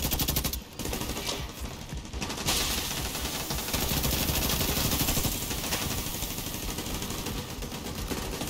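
Yellow turret in Tom Clancy's The Division 2 firing its machine gun in long, dense rattling bursts, loud and continuous across the stretch with a brief gap early on, no talk.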